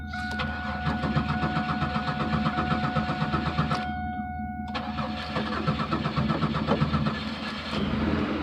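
Fuel-injected 2000 Chevrolet Camaro engine cranking and catching, the starter whir giving way to a steady mid-pitched idle after a brief drop, close and clear with no talking.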